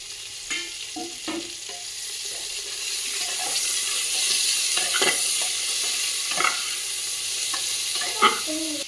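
Chopped onion and ginger-garlic paste frying in a pan, a steady sizzle under repeated stirring clinks and spatula scrapes, with some watery splashing sounds, close by and without speech.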